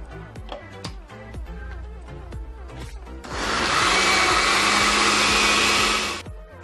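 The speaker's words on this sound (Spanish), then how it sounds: "Le vamos a licuar un pedacito de queso." A kitchen blender whirs loudly for about three seconds, pureeing carrot soup with a piece of cheese, after a stretch of quieter clattering kitchen sounds.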